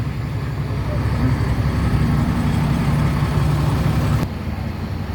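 A car engine idles with a steady low rumble as the vehicle creeps forward a little, loud and close, then cuts to a quieter background near the end.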